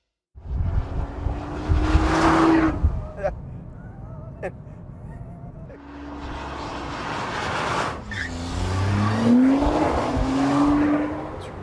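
A Nissan GT-R driven hard around a track, engine revving up and down past the listener with rising and falling gear sweeps and tire noise, loud and fairly near, with a voice speaking over it.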